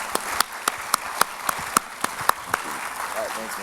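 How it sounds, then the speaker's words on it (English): Applause at a panel event on brand partnerships, heard as scattered individual claps with sharp spaced hits over a background of murmuring voices, fairly close and moderately loud. "A round of applause for the guys"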